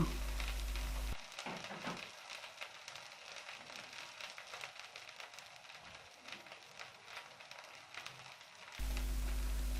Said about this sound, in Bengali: এরপর দিয়ে দিচ্ছি কয়েক টুকরা আস্ত রসুন দিয়ে নাড়াচাড়া করে আরও কিছুক্ষণ ভেজে নেব